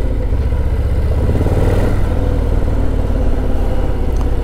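A Harley-Davidson Low Rider S motorcycle pulls hard on the road to Pacific Beach, its engine a loud, close, rumbling low-pitched roar that builds steadily as it accelerates, with no talk.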